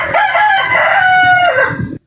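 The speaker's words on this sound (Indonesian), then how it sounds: "Nah, itu ayam membenarkan." A rooster crows once, loud and close, in a long drawn-out cock-a-doodle-doo that rises, holds and ends abruptly, with no talk over it.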